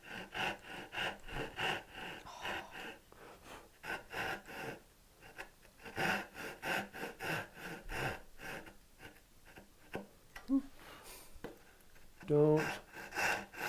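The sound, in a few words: hand saw cutting wood for mitered dovetails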